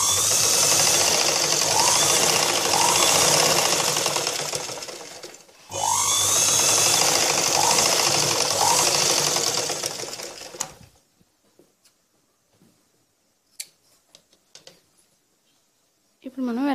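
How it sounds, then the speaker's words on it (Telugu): A sewing machine stitches blouse fabric in two long steady runs of loud, close, continuous whirring with a short break between them, then stops. Afterward only faint handling noises are heard. "ఇప్పుడు చిన్న ముక్కని మనం ఈ విధంగా పైకి పెట్టుకొని స్టిచ్చింగ్ చేసుకోవాలి."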